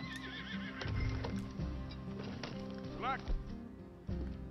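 Horse whinnying in Red Dead Redemption 2, a rising, wavering neigh near the three-second mark amid game sounds, hoof clatter and a voice talking.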